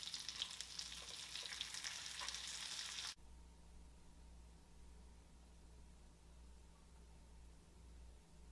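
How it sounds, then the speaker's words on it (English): Shrimp and calamari frying in hot oil and being flipped: a loud, bright sizzle for about three seconds, then a sudden drop to a much quieter, low bubbling hiss for the rest, with no voices. "I'm going to go ahead and flip these. Flipping my calamari."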